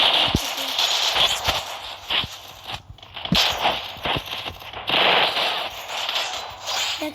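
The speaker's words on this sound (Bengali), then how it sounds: "এই যে MP40 নিয়েছি না, দেখুন গাইস কত সুন্দর হেডশট মারি।" MP40 submachine gun fire in the Free Fire mobile game, delivering rapid bursts of sharp automatic shots broken by brief pauses and a few single cracks, loud and close throughout.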